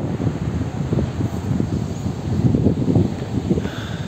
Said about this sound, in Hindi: देख सकते हैं कितनी हवा चल रही है, क्योंकि नदी के पास थोड़ा हवा चलती रहती है